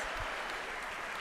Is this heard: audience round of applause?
yes